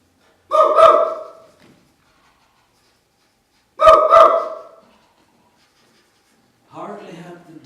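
A huntsman's dog barks in a deep forest: two loud, separate barks about three seconds apart, then a softer, shorter vocal sound near the end.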